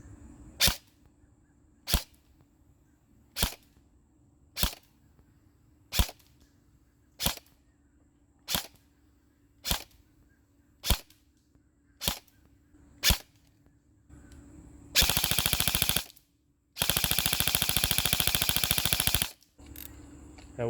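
A Krytac War Sport LVOA-C airsoft rifle fires through a chronograph: about ten sharp single shots at steady, evenly spaced intervals, then two loud sustained full-auto bursts close to the microphone.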